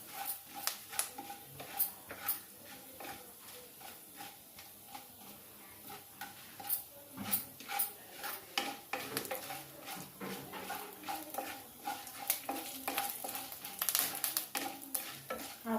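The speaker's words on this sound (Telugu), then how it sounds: "వేగి బాగా చిటపట వేగితే బాగా టేస్ట్ ఉంటుంది" Mustard and cumin seeds crackle in hot oil with a pinch of asafoetida while a pepper dal tempering is prepared. The pops are faint and scattered, irregular snaps over a quiet background.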